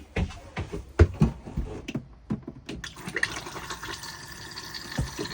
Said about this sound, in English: Now we've got the fresh water flush pumping around through there